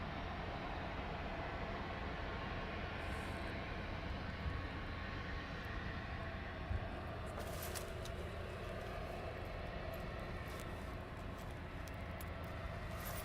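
An aircraft is pushed back from a stand at East Midlands Airport at night. A steady, distant roar of jet engines and ground equipment runs throughout, with a few faint clanks partway through.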